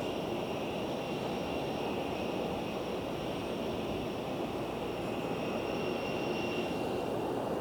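A jet airliner on approach to land at Phoenix airport gives a steady, distant engine roar with a faint high whine, holding at an even level throughout with no voices.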